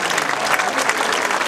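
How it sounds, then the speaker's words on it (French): A theatre audience claps loudly and continuously during a 2019 company team presentation, a thick even wash of many hands close by. "Merci pour vos applaudissements."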